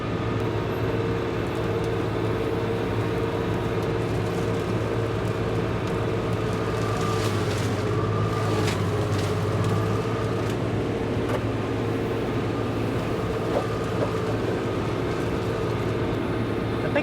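A tractor-driven mulcher idles with its slip clutch overheated and smoking, a steady low engine drone with mechanical hum and faint clatter, continuous and fairly close with no talking.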